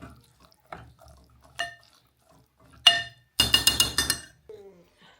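A metal utensil clinks against a pot while stirring coriander into cooked okra, a few sparse taps and then a quick run of rapid scraping clinks, close and fairly loud.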